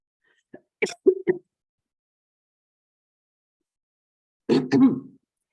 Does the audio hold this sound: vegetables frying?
no